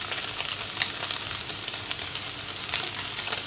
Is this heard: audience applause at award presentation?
no